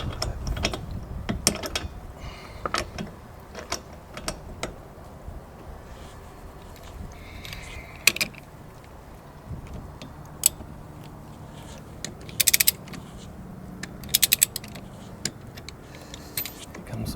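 A jack ratchets to lift a caravan wheel, giving faint, irregular mechanical clicks and sharp metallic clanks nearby over a quiet background, with scattered movement noises in between.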